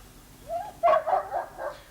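A dog gives a short whimpering yelp followed by a couple of quick, fairly quiet barks over a soft low background.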